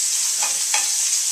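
Deer meat sears in a hot pan, giving off a steady, close, loud sizzle, with two brief bursts of stirring or turning partway through and no voices.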